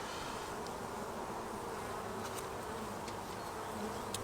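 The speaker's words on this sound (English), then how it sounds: "here you can see the bees are fairly calm" Honeybees crowd calmly on drawn comb in an opened poly hive, giving off a loud, steady, close-up buzz that holds without a break, with a few brief sharper wingbeats near the microphone.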